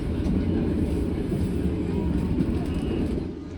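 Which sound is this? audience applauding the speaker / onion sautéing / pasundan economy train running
pasundan economy train running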